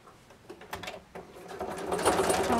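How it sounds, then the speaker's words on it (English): A sewing machine stitches bias tape onto a quilted hood seam, its motor whirring in short bursts that build into a steadier, louder run toward the end, close by with no talk. "I am just going to take my bias tape and sew it to one side of the seam"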